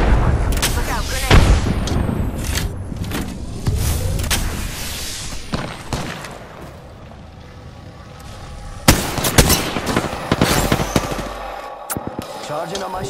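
Rapid gunfire bursts and heavy weapon blasts from an Apex Legends match, loud and dense in the first half, easing to a quieter stretch, then a fresh volley of sharp shots near the end, with game voices mixed in.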